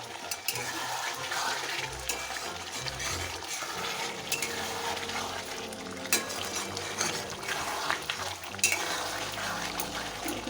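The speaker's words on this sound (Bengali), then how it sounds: "ঢাকাটা তুলে এবার একটু নাড়িয়ে নিই, তারপর আবার ঢাকা দিয়ে দেবো।" Chicken curry simmering in a pan is stirred with the lid off, giving wet, bubbling, scraping sounds and soft clinks that continue steadily at close range.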